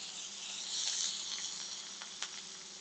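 Boneless leg of lamb browning in a pan gives a steady, soft, high hiss of sizzling fat with a few faint pops, continuous and without voices.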